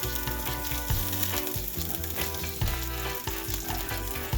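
Shrimp sizzles loudly in a hot skillet, a dense crackling fry broken by occasional clatter from stirring, close and continuous, with no talk.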